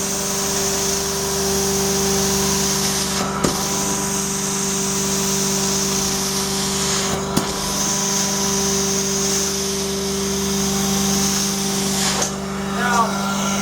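Amtex Inferno 2747 Direct Drive carpet cleaning machine, a 2015 model with heaters, running steadily with a constant engine drone and whine, broken by a few brief clicks.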